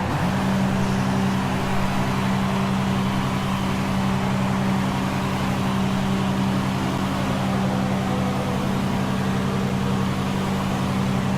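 An F1 race car in the F1 2016 video game entering the pits at Silverstone on worn tyres gives a steady, even engine drone that holds one pitch throughout with no talking.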